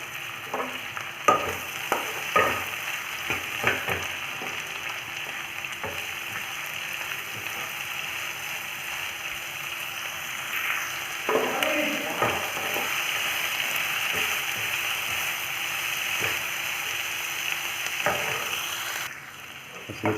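Onion and capsicum, with cabbage and salt, frying in a pan for white sauce pasta: a continuous sizzle with frequent scraping and clinking stirs of a spoon throughout, close and steady, with no voices.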